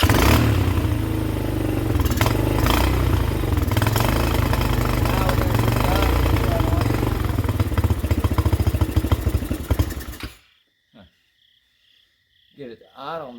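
Small pit bike engine running loud and close with a rough, clattering idle and some revving for about ten seconds, then it cuts out into near silence broken by a few brief noises.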